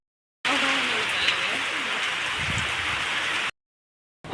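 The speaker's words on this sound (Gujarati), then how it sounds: "ફૂલ વરસાદ આવે છે સામે" Heavy rain pours down steadily in a broad, even hiss, close and continuous for about three seconds before cutting out.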